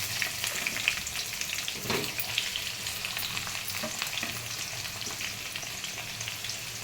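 Onions hit hot oil with spluttering mustard seeds in a pan for a tomato onion curry, giving a steady close crackling sizzle with a few louder pops and a brief stir partway through, no voices.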